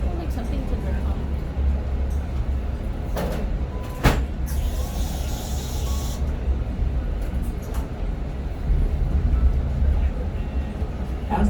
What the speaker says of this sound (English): As the train travels west out of town,